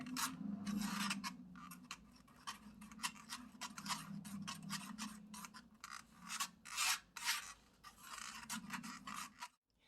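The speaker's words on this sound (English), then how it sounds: "And you're just gonna whisk away, stir, stir, stir." Liquid lip pigment mixture is whisked and stirred briskly in a large container, making rapid, rhythmic scraping and rubbing strokes up close, with uneven bursts and a brief stop near the end.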